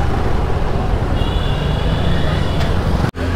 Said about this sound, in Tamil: பயங்கர டிராஃபிக்காக இருக்குது.